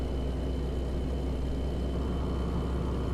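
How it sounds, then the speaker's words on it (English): A steady, loud low rumble drones on without a break as truck tires roll over a rumble strip in American Truck Simulator, with a constant engine hum beneath. "And there's the rumble strip."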